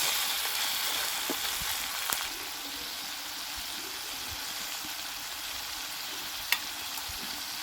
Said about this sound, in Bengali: এটাকে ভালোভাবে আমি মশলাটাকে কষিয়ে নেব